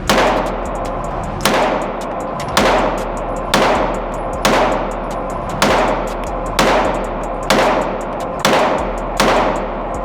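TriStar APOC Compact 9mm pistol fired at an indoor range: nine loud, sharp shots spaced about a second apart in a steady rhythm, each leaving a short echoing decay.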